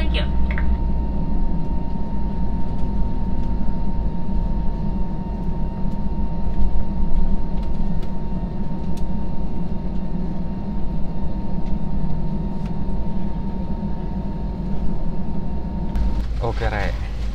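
Inside a Batik Air airliner cabin just after landing at Halim Perdanakusuma, Jakarta, on a Semarang to Jakarta flight, a steady, loud engine and air-system drone with a faint fixed tone continues unbroken, ending in a brief burst of nearby noise.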